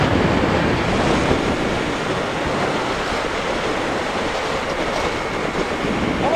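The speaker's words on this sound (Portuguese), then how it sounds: "a ventania tá, tá osso, galera, muito vento" Strong, steady wind roars past a motorcycle at around 100 km/h, a dense continuous broadband rush with no pauses and no voices.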